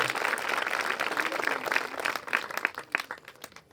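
An audience at a village church meeting breaks into steady applause, many hands clapping close by and thinning out toward the end.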